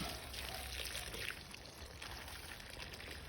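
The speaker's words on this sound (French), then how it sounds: "Je bouche un petit peu. Et je mets de l'eau." Water poured from a container into a planting hole in a garden, a steady continuous trickle and splash at close range, fairly faint and even throughout.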